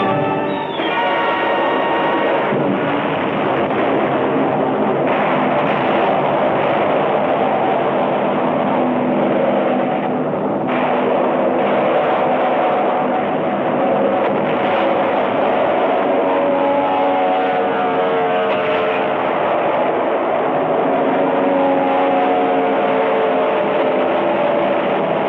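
World War II Japanese land-based fighter and bomber aircraft engines drone loudly and steadily for the whole stretch, a dense, band-limited roar with no speech over it.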